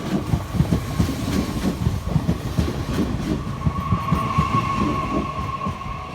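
An AGC regional train passes on the Paris-Orléans-Tours line with a steady, loud rumble and rhythmic wheel clatter. A tonal whine rises toward the end, with no voices.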